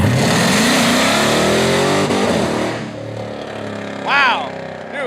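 A 707 hp Hellcat V8 swapped into a 1968 Dodge Charger revs hard up to the rev limiter, loud and close, then settles to a rough idle as a voice speaks briefly near the end.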